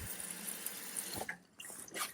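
Water splashes and runs over an RC car as its wheels and body are washed, a steady hiss of spray with a few brief drips and squeaks near the end, fairly quiet and with no voices.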